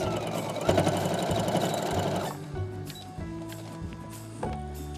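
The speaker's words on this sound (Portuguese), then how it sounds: "Vou passar mais uma costura reta aqui agora, nessa linha que a gente acabou de traçar, dos 4 centímetros" Close, loud rhythmic chatter of a sewing machine running a straight seam on a fabric pencil case for about two seconds, then softer short bursts as stitching slows and stops and starts.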